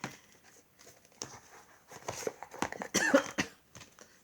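A person coughing close by in a quiet room, a rough cluster of several coughs building to a louder burst, with light rustling around them.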